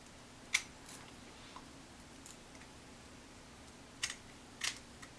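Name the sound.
scissors cutting wig lace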